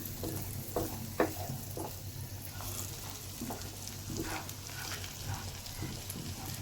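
Food sizzles steadily in a pan, with occasional scrapes and knocks of stirring over the constant frying hiss.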